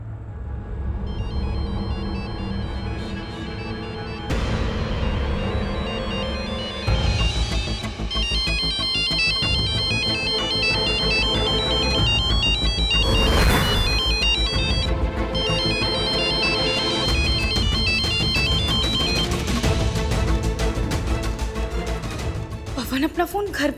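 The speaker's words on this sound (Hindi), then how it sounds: "पवन को फोन लगाती हूँ।" A phone ringtone plays a loud, repeating electronic melody nearby, continuing without a break for the full stretch with slight shifts in its tune.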